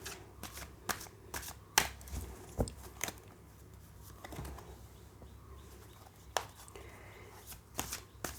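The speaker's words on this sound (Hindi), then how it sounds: "मैं सारे कार्ड्स पहले एक एक करके सारे निकाल ले रही हूँ फ्रेंड्स" Tarot cards drawn from a deck one at a time, a series of soft, quiet flicks and slaps spaced irregularly, close by in a hushed room with no talking.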